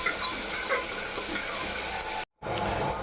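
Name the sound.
frying and stirring spice masala in a pan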